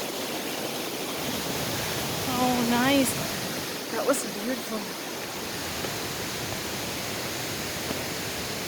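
Small waterfalls below Lindeman Lake give a steady, broadband rush of falling water that holds constant throughout, with a person briefly speaking over it.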